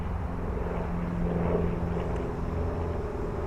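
A propeller plane passes overhead outdoors while a small DJI Mini 4K drone flies nearby, its steady mid-distance drone lingering at moderate loudness for a few seconds with no talk.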